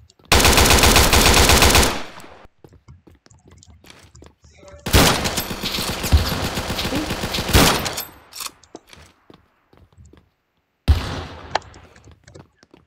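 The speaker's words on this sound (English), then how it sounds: "Got two kids shooting at me at once." Video game gunfire in a realistic gun game: loud, close bursts of rapid automatic fire in three separate volleys, each lasting a few seconds, with quiet gaps and faint voices between them.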